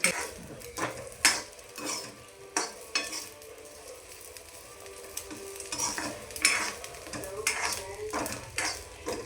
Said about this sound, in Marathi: थोडेसे बोंबील फ्राय करून घ्यायचे